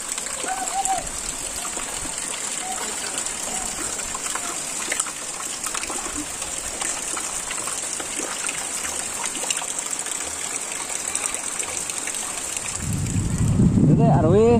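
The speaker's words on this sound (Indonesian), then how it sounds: "Hujan, Dek." Steady broadband hiss of rain falling on a hillside garden plantation, continuous and fairly loud throughout, with a low rumble swelling near the end.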